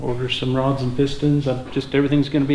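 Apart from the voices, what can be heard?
No everyday noise stands out behind the speech.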